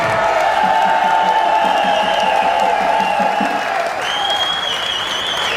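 Loud, sustained applause from a large crowd at the OLS 2023 prize ceremony, continuous clapping with a few cheers, while a tonal musical sound runs underneath.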